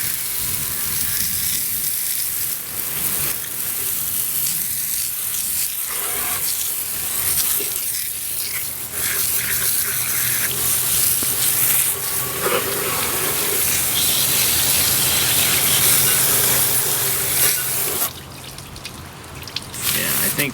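Low-pressure water sprayed over the block of a 1937 Briggs and Stratton Model A engine, a continuous splashing hiss with drips and spatter that shifts as the stream moves, close and fairly loud.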